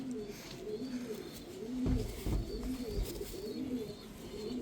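Pigeons coo nearby in a repeated, rolling rhythm of low, soft calls over light background noise.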